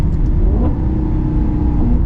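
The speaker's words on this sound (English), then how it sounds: "you won't get tired of the sound of this car, that's for sure" A Maserati GranTurismo MC Sport Line engine revs while the car drives, a loud, close, continuous mechanical roar with a rising whine partway through and no talking.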